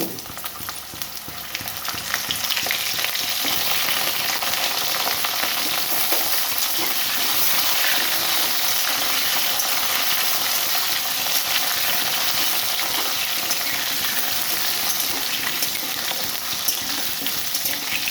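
Taro pieces fry noisily in hot oil in a pan, following potatoes and five-spice tempering, with a steady, loud broadband sizzle that swells after the first couple of seconds and holds evenly, with occasional stirring scrapes.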